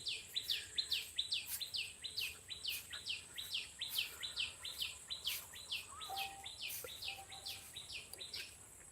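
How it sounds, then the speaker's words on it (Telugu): Birds chirp rapidly and repeatedly in a steady rhythm, with insect-like trills mixed in; no talking, outdoors ambience. "ఆ పక్షులు కిలకిలలు చూడండి"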